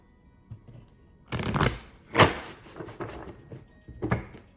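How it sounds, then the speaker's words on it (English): A deck of cards is shuffled close up in a few quick riffling bursts, separated by short quiet gaps. "Let me just shuffle it again"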